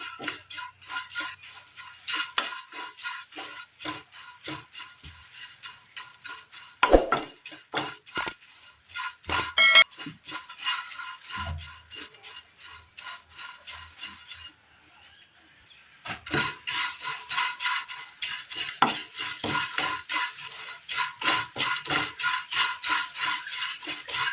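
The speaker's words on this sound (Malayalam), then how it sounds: "ഇതൊന്ന് വറുത്തെടുക്കണം." A spoon scrapes and stirs dry flattened rice roasting in a pan, steady rhythmic scratching strokes with a brief pause midway before the stirring resumes.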